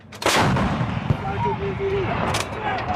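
A U.S. Marine M777 towed 155mm howitzer fires during a live-fire exercise, one loud close blast with a sharp onset and a rumbling tail, while crew members shout commands around it.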